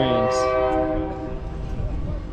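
A loud train horn sounds and fades within a second, leaving the heavy rumble of a passing train near a car show.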